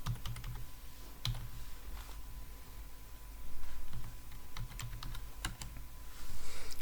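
Computer keyboard typing in a code editor, with scattered soft key clicks in small bursts over a steady hiss of background noise, close and fairly quiet, with no one speaking.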